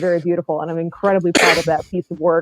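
A single sharp sneeze bursts out in the middle of a woman's speech during a podcast conversation, loud and close, with talk on either side.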